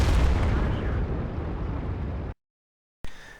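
A tank cannon shot with high-explosive rounds in a video game: a loud, deep booming blast that rumbles and fades, cuts to silence, then a second sharp report begins.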